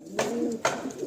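Andhra pigeons give two soft, close coos, each a short throaty burst, in a quiet indoor space.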